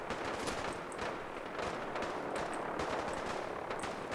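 Rapid gunfire in the video game Fallout 4 crackles in dense bursts at a distance, a continuous volley of shots with no talk over it.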